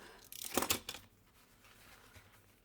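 A paper bag being cut for a handmade mini album: a brief burst of dry crackling, tearing paper up close, followed by quiet handling.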